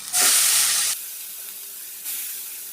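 Sliced beetroot tipped into hot oil with freshly popped mustard seeds for a Kerala thoran gives a loud, close burst of hissing sizzle that eases to a softer steady fry, then swells again briefly near the end.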